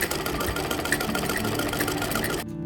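Sewing machine stitching sofa cover fabric, a close, fast, steady mechanical whir and needle rattle running continuously before stopping abruptly near the end.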